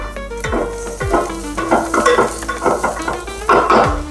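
Curry leaves and shallots sizzle in hot oil, a loud continuous frying hiss broken by repeated metal-spoon stirring clanks against the pan.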